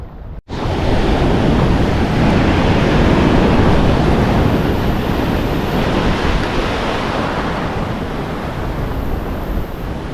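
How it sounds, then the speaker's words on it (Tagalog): Ocean waves breaking on a rocky fishing shore, a loud continuous wash of surf with wind buffeting the microphone, no voices. "basagan ng alon mga master"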